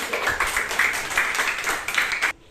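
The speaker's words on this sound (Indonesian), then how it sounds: "Tepuk tangan untuk kelompok 3." Applause for a group of students in a classroom, a steady patter of many hands clapping for over two seconds before stopping abruptly.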